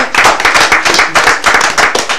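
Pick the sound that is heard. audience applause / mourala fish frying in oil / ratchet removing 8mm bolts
audience applause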